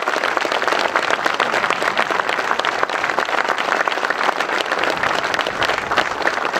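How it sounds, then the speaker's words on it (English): Loud, sustained applause from a large audience at a Saab festival in Trollhättan, dense clapping filling the whole stretch without pause. "An applause, Gunnar Palm."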